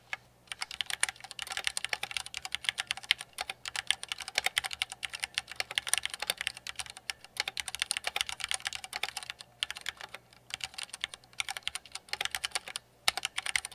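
Steady, rapid typing on a mechanical keyboard with linear switches such as Cherry MX Reds, producing a dense run of close, even keystrokes with brief pauses.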